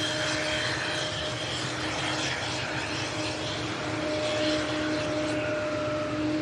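A TUI Boeing 787 Dreamliner, about 12 years old, on approach to land at Manchester Airport, its engines giving a loud, steady whining roar with a sustained tonal hum, close and continuous without talk.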